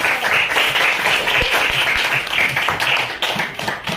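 Schoolchildren in a classroom clap for a classmate, a lively, close patter of many small hands applauding steadily for several seconds.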